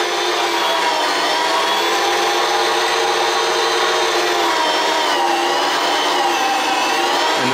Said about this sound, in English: I use short ribs usually for burgers, and grind it myself.